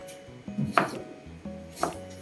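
A knife chops vegetables into pieces on a board in a home kitchen: two distinct, fairly close thuds about a second apart, with a faint steady hum behind them and no voices.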